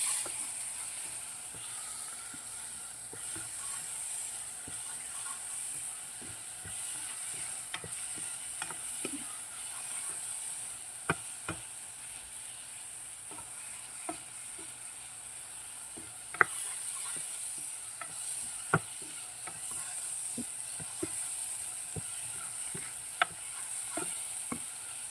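Dry spices such as garlic powder, about two teaspoons each, stirred into a sizzling pan of tandoori chicken ball mixture: a continuous frying hiss broken by scattered sharp scraping and clicking strokes of a utensil, no talk.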